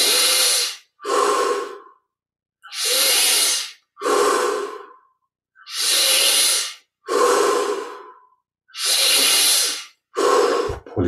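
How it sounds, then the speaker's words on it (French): During Kriya Yoga guided meditation, a person draws forceful, deep breaths close to the microphone. Loud hissing inhales and exhales alternate in a steady rhythm of about eight strong breaths, each separated by a brief silence. "Prenons un peu plus d'air."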